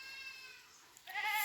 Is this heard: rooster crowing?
no